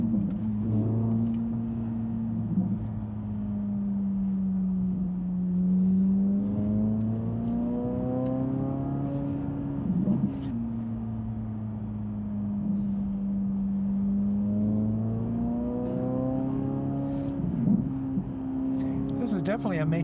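A Corvette Z06 engine revs up and settles in long, smooth swells, its strong, close, harmonic roar rising and falling several times over twenty seconds.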